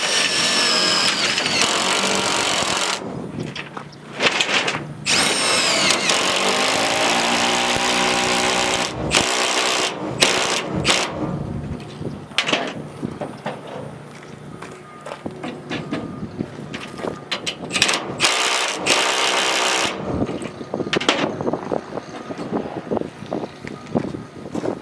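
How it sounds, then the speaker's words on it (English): A chain on a Kubota M62 tractor load is ratcheted tight with a speed binder, giving repeated metallic clicks and cranking sounds over an outdoor wind-like background. "Get out as much chain material as I can and go ahead and tighten it down"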